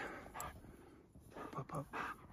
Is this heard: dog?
yes